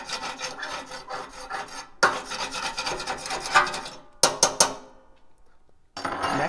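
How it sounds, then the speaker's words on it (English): A supplied tool scrapes out the burn pot of a pellet stove with close, gritty metal rasping strokes in bursts, a brief pause, a few sharp clanks, then more scraping. "About once a day, we scrape out the burn pot with a supplied tool."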